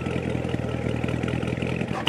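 A Corvette C7 Z51 engine with a manual transmission revs up to about 3,000 RPM, giving a steady, loud engine drone with a rough, pulsing texture for about two seconds.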